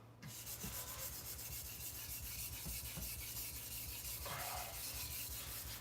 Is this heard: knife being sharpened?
yes